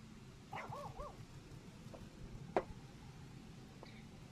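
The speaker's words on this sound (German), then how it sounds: "Oh, dieser Hund, ey" A dog in Final Fantasy XIV: A Realm Reborn gives a short run of quick barks, then a single sharper bark a moment later, moderately loud over a soft, steady game-ambience hiss like light rain.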